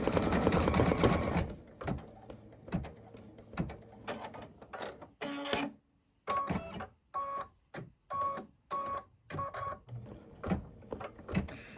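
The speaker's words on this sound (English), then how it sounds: "This is stitching out really lovely. Very good coverage." Embroidery machine stitching out a Christmas design, its rapid mechanical needle rhythm running loud and busy at first, then breaking into short repeated bursts with brief pauses between them; no talking.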